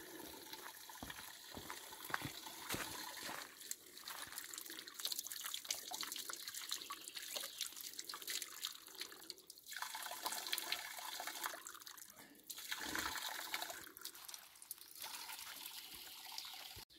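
Water running through old supply pipes of a historic village water system near Prusac, Bosnia, a steady splashing, trickling flow that continues throughout, close by, with faint background noise.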